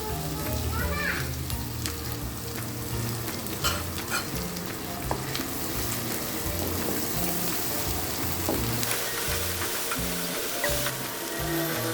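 Mustard leaves fry in a pan with a loud, continuous close-up sizzle, overlaid by steady stirring and scraping of a spatula throughout.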